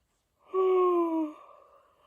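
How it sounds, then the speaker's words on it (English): A single drawn-out human yawn during a guided breathing and body-work session, a close, loud voiced exhale that slides slowly downward in pitch for about a second and then trails off into quiet breath. "Yawning is a really good sign."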